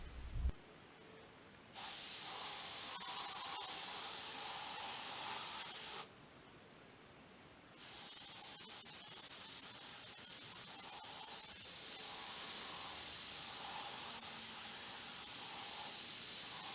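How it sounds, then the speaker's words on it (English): An airbrush spraying thin black acrylic craft paint hisses in soft, steady bursts, starting and stopping several times with quiet pauses between sprays, close and fairly faint. "now I'm using my templates to softly spray a thin black craft paint in the shadowed areas"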